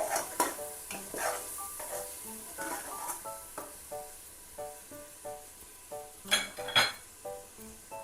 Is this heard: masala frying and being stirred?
yes